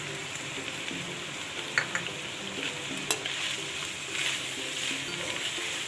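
Carrots, capsicum, green chillies and chicken stir-fry in a hot pan, giving a continuous sizzle with scraping stirs and a few sharp utensil clinks, and nobody speaking.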